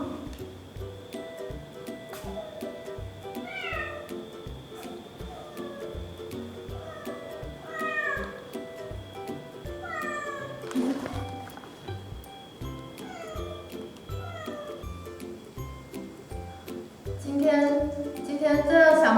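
One-month-old kittens meow again and again while eating their first meat, chicken breast and liver, with their mother cat nearby. The high, overlapping mews come close and busy throughout, growing louder near the end.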